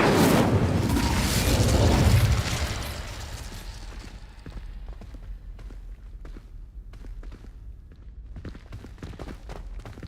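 A fiery Incendio spell blast from the Hogwarts Legacy video game erupts as a loud, roaring burst lasting a couple of seconds, then fades into a quieter tail of scattered crackles and footstep-like ticks.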